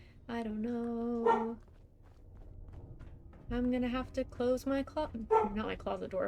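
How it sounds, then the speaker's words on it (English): A pet dog named Clover barks from another room, the yaps intermittent and somewhat muffled behind a person talking at a moderate distance from the microphone. "That is my dog barking."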